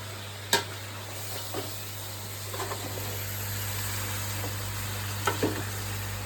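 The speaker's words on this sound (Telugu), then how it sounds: "చికెన్ని మొత్తం మిక్స్ చేస్తున్నానండి" A spoon scraping and stirring chicken in a pan for natu kodi curry, a few distinct clinks and scrapes over a soft steady sizzle, close and moderately quiet, with a low hum underneath and nobody talking.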